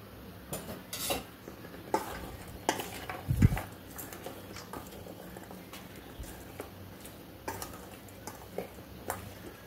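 A spoon scrapes and clinks against a pot while a vegetable biryani mixture is stirred with oil, faint, close irregular taps and soft scraping with no talking.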